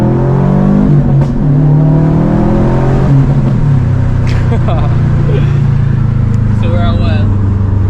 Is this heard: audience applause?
no